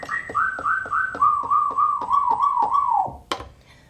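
Finger-drummed whistle samples fired from DJ cue points in a 3Style routine: a run of nine or ten short, bright whistle tones in a steady rhythm, each slightly lower in pitch, ending in a sharp hit, loud and alone.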